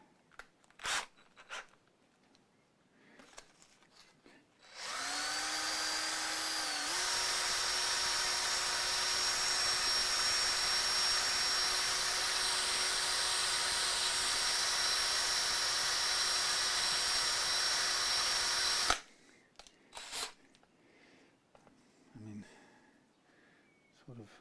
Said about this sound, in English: Maybe it's just simpler to over drill and try to preserve that material as much as possible.